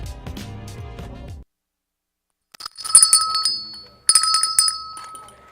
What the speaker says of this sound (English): So that's the little bell you get when you order, right?